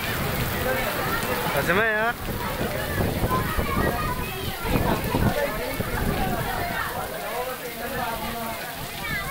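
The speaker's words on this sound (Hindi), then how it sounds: "बारिश हो रही है" Steady rain patter fills the background throughout, with people talking over it close by.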